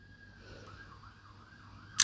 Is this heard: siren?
yes